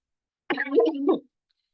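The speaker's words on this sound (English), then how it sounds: "you'll hear me cough a few times" A short burst of coughing, a rough throaty sound lasting under a second, close to the listener with silence around it.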